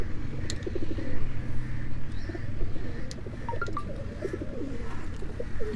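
Pet pigeons coo in low, repeated throaty calls close by, with a few sharper chirps and faint rustling mixed in and no voices.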